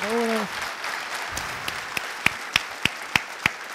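Audience at a conference clapping, starting with a short spoken phrase, then a sparse and fairly quiet patter that settles into a few distinct, evenly spaced claps toward the end.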